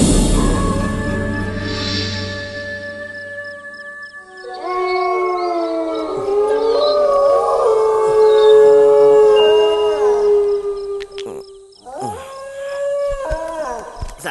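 A dog howls at night, long wavering howls rising and falling with a short pause between them, close and loud, after a low rumbling start.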